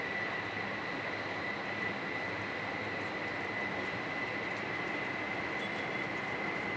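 Inside a Shinkansen Hayabusa bullet train bound for Tokyo, a steady, quiet rumble of the running train fills the cabin, with a thin high whine holding constant throughout.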